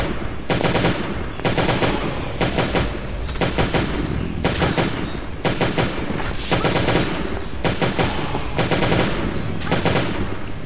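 Rapid automatic gunfire from the survival video game Last Day on Earth: Survival, set in a laboratory on hard mode, rattles in loud, sustained bursts with brief gaps, dense and close throughout with no voices.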